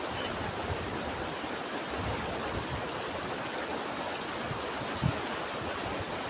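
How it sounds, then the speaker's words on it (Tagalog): Steady, moderate rush of cold river water flowing at Dupinga, a continuous broadband wash with no voices, one small splash near the end. "Sarap pagtampisaw sa ilog, ang lamig ng tubig."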